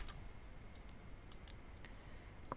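Typing on a computer keyboard while filling in an electronic receipt form: a few scattered key clicks over a steady background hiss, quiet and close, with no voice.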